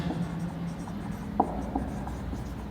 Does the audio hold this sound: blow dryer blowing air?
no